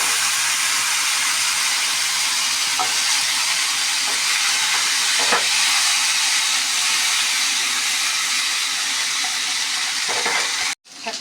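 Sweet potato frying in a covered pan with turmeric and asafoetida: a loud, continuous hiss like steam that holds steady almost to the end, then stops briefly, with no talking.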